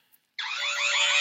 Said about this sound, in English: this theme song was literally an alarm sound effect.